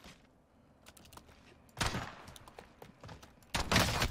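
Gunfire in a shooter video game, with two loud bursts of shots breaking out about halfway through and near the end over a quieter stretch of scattered, fainter noises.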